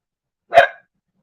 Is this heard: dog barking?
yes